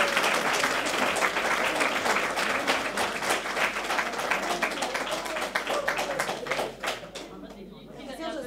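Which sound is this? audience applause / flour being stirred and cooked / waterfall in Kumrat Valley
audience applause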